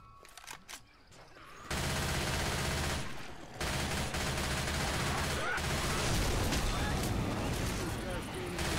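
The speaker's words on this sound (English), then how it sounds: "Shoot the witch!" Sustained automatic gunfire in Left 4 Dead 2, with survivors shooting at the Witch; after a short quieter stretch with a few shots, dense continuous firing starts and stays loud to the end, with a brief dip midway.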